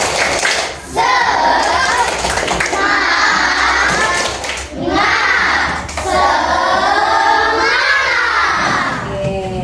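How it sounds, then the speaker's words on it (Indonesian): A class of primary schoolchildren in an Indonesian classroom does a rhythmic spirit clap, with loud, close bursts of clapping and shouted chanting in repeated phrases, broken by brief pauses. "Coba tepuk semangat dulu. Tepuk semangat."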